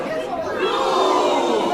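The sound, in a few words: crowd cheering at Kraken wrestling event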